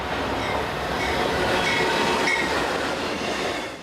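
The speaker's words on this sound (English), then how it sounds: "Here comes another freight train." A freight train pulling cargo wagons rumbles past steadily with a broad roaring wash of wheels and cars, loud and continuous, swelling slightly in the middle.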